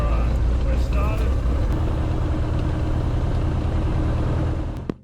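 The engine of a Super Decathlon aircraft idles at 1000 RPM just after start, a steady low drone held throughout, overlaid with faint speech and clicks before it cuts off abruptly at the end.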